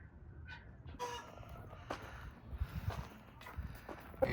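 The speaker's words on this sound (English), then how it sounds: "Chickens will be pecking the corn off of you, huh?" Several chickens and roosters cluck and crow around a flock fed corn, with a giant Jersey rooster among them; scattered crows and clucks repeat over constant close barnyard bustle and some footsteps.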